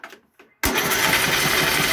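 A John Deere riding lawn mower engine cranks and catches after a near-silent pause with faint sounds, then runs loud and steady with a rough, rumbling idle.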